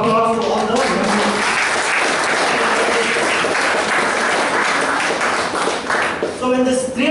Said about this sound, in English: let's give a big round of applause to all the members